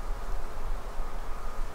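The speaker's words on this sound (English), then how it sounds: "But the bees appear to be concentrated all throughout this hive." Honeybees buzz in a strong, opened winter hive full of summer brood, making a steady, close, even hum with no voices.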